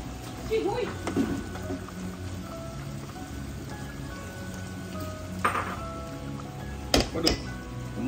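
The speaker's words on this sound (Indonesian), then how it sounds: "aduk bihun" Fried rice vermicelli with egg and soy-sauce meat is stirred in a pan, giving a steady sizzling, rain-like hiss with a few sharp utensil clinks near the end while voices murmur in the background.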